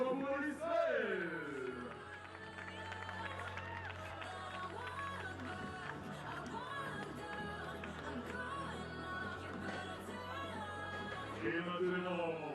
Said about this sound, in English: Applaudissements pour Israël.